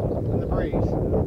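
Wind gusting across a links golf course at Royal Lytham, a steady broadband rush buffeting the microphone for a brief moment, loud and close.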